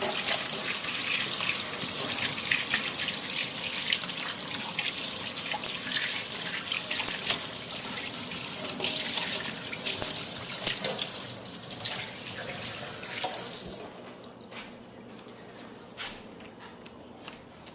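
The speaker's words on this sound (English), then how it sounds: "gonna wash my hands one more time." Water runs steadily from a kitchen tap while hands are washed under it, a continuous splashing hiss that stops abruptly near the end, leaving only faint drips and quiet room sounds.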